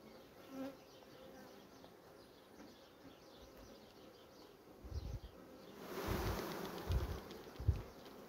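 Honeybees buzz steadily around hive frames while a colony is packed onto fewer frames to raise queen cells, a dense drone that swells louder and closer toward the end with a few handling thumps.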